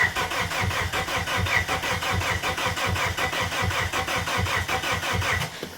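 An abandoned Plymouth Neon's engine cranks steadily for about six seconds without catching, the starter churning in a fast, even rhythm up close and loud, with no voices over it.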